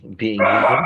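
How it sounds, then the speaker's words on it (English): A pet dog barks and yips close by, a few quick barks overlapping a person talking in an indoor conversation. "And that's my dog."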